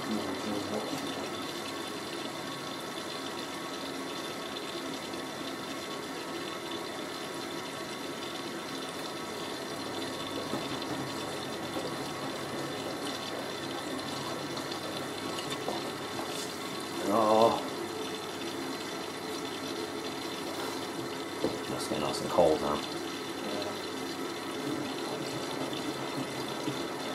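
A Miele W562 Prestige Plus 6 washing machine fills with water for a medium-level rinse during a boil wash, giving a steady, continuous rush with a few louder bumps, as people talk quietly nearby.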